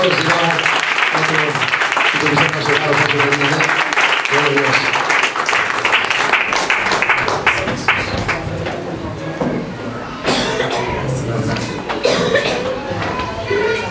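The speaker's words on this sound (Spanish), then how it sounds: "Dale un fuerte aplauso al Señor" A congregation applauding at a church's 14th anniversary service, loud, energetic clapping mixed with voices and shouts, strong at first and then thinning into scattered claps and cheers.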